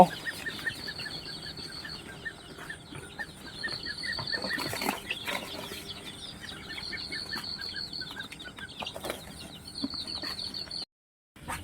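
A group of chicks peck at feed they have just been given, calling almost nonstop with busy, overlapping cheeps and clucks close by, with no voices heard.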